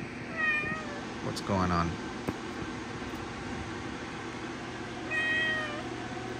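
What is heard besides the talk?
cat meowing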